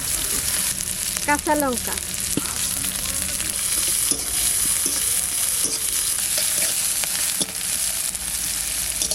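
Black cumin, garlic and onion spit and crackle in hot oil with a dense, loud sizzle and occasional utensil knocks, while a voice speaks briefly over it.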